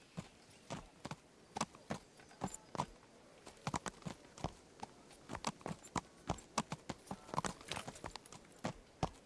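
Horse hooves clip-clop steadily on hard ground in the video game Kingdom Come, a faint, even walking rhythm with no voices.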